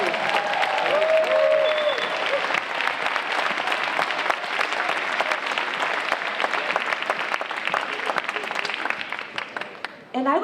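A morning audience gives a round of applause for a fourth grade group's performance. Many hands clap loudly and continuously, with a few voices and a brief whistle-like tone mixed in, before the sound cuts off near the end.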